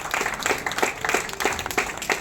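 A small group at a tech conference Q&A session claps for a presenter, with individual claps loosely clustering into a rough pulse, close by and fairly loud, in a short burst with no speech.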